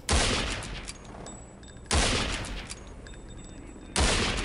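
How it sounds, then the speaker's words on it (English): Three loud, close Steyr Scout rifle shots in a video game, evenly spaced about two seconds apart, each a sharp crack with a decaying tail, no talk. "Aha, Steyr Scout."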